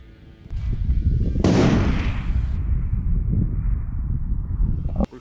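A Stag Arms 6mm ARC rifle fires once at a prairie dog during long-range varmint hunting. One loud, sharp report is followed by a long rolling echo that slowly fades over several seconds, with no talking.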